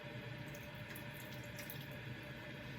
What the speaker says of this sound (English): It's a good idea to rinse this as well.